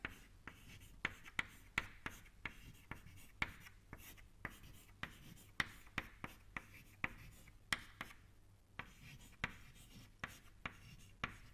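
Chalk or pen writing out equations during a fluid dynamics lecture, heard as a steady series of sharp taps and short strokes that carries on throughout, close and fairly quiet, with no one talking.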